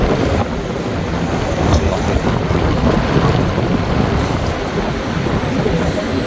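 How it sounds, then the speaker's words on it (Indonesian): Strong night wind in Mecca buffets the microphone, making loud, continuous rumbling gusts that fill the whole stretch with no clear speech. "Ini kondisi kota Mekah dan cuaca kota Mekah di malam hari ini anginnya kenceng ya"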